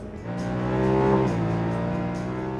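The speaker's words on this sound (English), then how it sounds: "when you get on the gas and give it full throttle, it has a really throaty, aggressive intake sound" A 2015 Honda Pioneer 1000 UTV's 999cc engine gives a throaty intake roar that builds at full throttle, rising in pitch and loudness before settling into a steady, aggressive drone.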